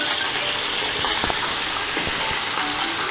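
Chicken sajji fries in a pan with a loud, continuous, close sizzling hiss and a few faint clicks and taps of handling underneath.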